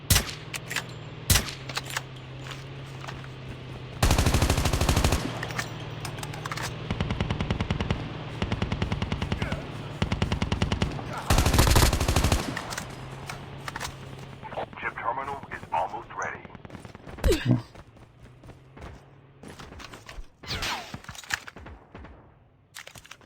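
Automatic rifle fire in Call of Duty Mobile battle royale, long loud bursts of rapid shots with gaps between them, while players talk over the gunfire.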